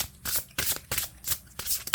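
A deck of tarot cards is shuffled in quick repeated riffles, about five crisp bursts of flicking paper close by, with no talk.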